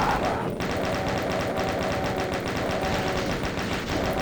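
Gunfire at Hell Knights in Doom 2, a steady stream of repeated pistol shots in an even rhythm throughout, loud and close, with a faint voice talking underneath.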